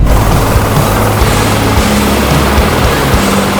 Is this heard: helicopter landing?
yes